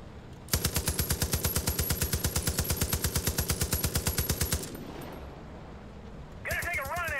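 Machine gun fire in the video game Far Cry 5, a rapid, evenly spaced burst of loud shots lasting about four seconds, followed by quieter game ambience and a warbling tone near the end.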